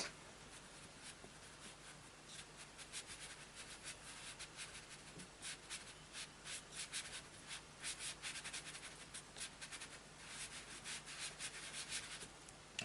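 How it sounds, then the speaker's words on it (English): Sponge scrubbing PanPastel pigment onto paper, a close, steady rasping rub in quick repeated strokes that swell and fade, fairly quiet with a low hum underneath. "I'm using the bigger sponges to get the pigment down in a large quantity obviously"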